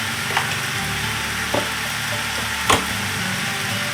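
Ground beef seasoned with garlic powder browning in a pan gives a steady, close sizzle and frying hiss, broken by a few short clicks of stirring against the pan.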